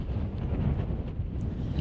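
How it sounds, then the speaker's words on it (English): Steady outdoor wind roaring and buffeting close to the microphone, a constant broadband rush with no voices. "it is a little bit windy out here"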